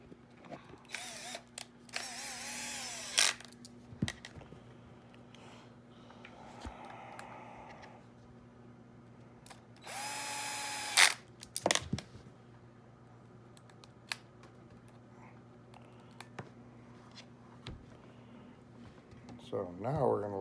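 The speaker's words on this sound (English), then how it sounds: "And yes, I use a drill. Low torque." A power drill on low torque whirs in short bursts driving screws into an RC truck axle housing, with a couple of longer runs, separated by quiet stretches with occasional clicks and handling noises.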